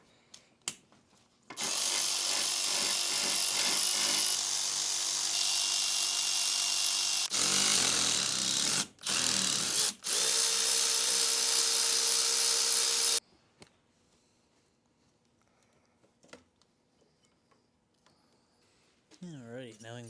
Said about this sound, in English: now we can just remove all these bolts